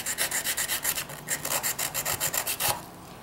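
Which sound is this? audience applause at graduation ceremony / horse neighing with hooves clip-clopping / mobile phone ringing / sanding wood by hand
sanding wood by hand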